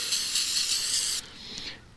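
Starting fluid sprays from an aerosol can onto a trailer in one steady, close hiss that cuts off abruptly, leaving a fainter trailing hiss.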